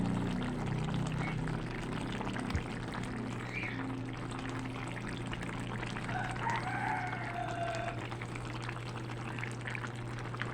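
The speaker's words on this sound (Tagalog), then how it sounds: "So maglalagay na po tayo ng ating tomato sauce." Tomato sauce poured onto sardines cooking in a pan gives a steady, continuous pouring and simmering sound for about ten seconds, with a rooster crowing faintly in the distance.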